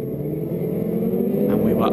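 Racing sidecar engines accelerate at the Hungaroring circuit as a steady loud roar that builds slightly toward the end, with a commentator talking over it.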